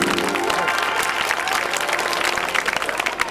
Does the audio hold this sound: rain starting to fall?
no